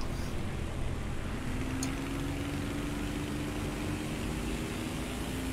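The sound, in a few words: biplane engine in a video game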